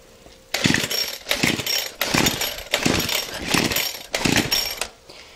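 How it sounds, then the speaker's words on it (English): A Craftsman Speed Start weed eater's small two-stroke engine revs loudly in repeated bursts, surging up and dropping back about five times, close by and struggling to keep running. "it's a Craftsman Speed Start weed eater"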